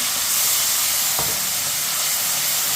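Chopped onions frying in a pan with cumin, a steady loud sizzle and hiss broken by a single scrape of stirring partway through.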